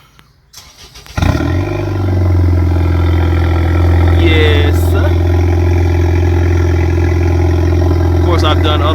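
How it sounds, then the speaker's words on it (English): A 2012 Acura RDX turbo with a modified exhaust fires up from cold after a few seconds of quiet, then settles into a loud, deep, steady idle drone, with a brief spoken reply near the start. "I'm gonna give y'all a cold start here in a little bit."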